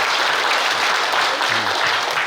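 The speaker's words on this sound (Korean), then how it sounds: "그럼 박수 한번 쳐주시기 바랍니다." Standing audience applause at a provincial leaders' summer training gathering, a dense continuous clapping that stays loud and even throughout with a hint of voices underneath.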